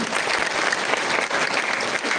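A crowd at a funeral ceremony in Kenya gives a short burst of steady, loud clapping, close and continuous for about two seconds.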